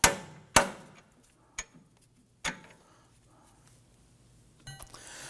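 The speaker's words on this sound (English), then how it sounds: "I'm going to use the hammer to tap out the bottom one first." A few sharp metallic hammer taps knocking out front strut bolts on a 2003-2014 Volvo XC90, irregularly spaced with quiet pauses between, close by, followed by faint rattling.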